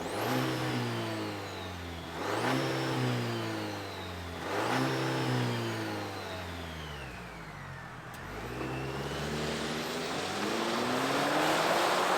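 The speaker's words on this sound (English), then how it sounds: "let's fire up this new Ford banger and hear what it sounds like." A pickup truck's four-cylinder engine starts and revs up three times in rising, roaring pulses, then settles into a steady, loud run, close by with no talking.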